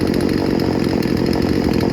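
A Craftsman 16-inch 38cc gas chainsaw runs at a steady high idle close by, a loud, continuous buzzing snarl with no talk.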